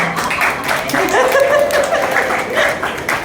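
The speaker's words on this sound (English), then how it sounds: "Clap for Liana." An audience at a Westside Limitless campaign event claps for Liana in a brisk burst of steady, fairly loud applause. Light chuckles and a bit of voice are mixed in.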